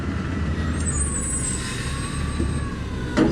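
A heavy garbage truck idles and rumbles nearby, a steady low engine drone with faint higher whines, ending in a brief hiss like an air brake.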